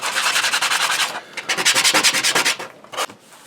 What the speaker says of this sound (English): I like using a flat board with sandpaper to level out the greeblies.